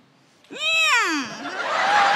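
A single drawn-out cat meow, loud and close, rising then falling in pitch, followed by a rougher, noisy trailing sound, heard alone.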